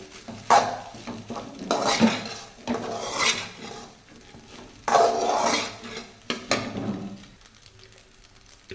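Cauliflower pieces are stirred into warm rice in a pan for gobi rice, with scraping, clattering spoon strokes against the metal coming in irregular bursts, a faint sizzle between them, close and without talk.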